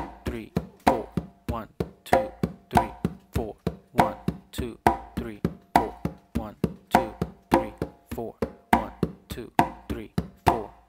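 Congas playing a clave independence exercise, a steady stream of sharp hand strikes with a repeating accented pattern, close and alone.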